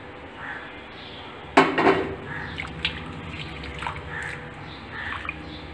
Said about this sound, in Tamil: இப்போ வெண்ணி நல்லா கொதிச்சுட்டு அதில் நம்ம மீன் எடுத்து போடுறோம்